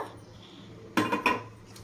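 A spoon clinks and scrapes against a metal pot while rice paste is mixed into coconut milk payasam, a quiet hum first, then a short burst of three or four sharp clatters near the end.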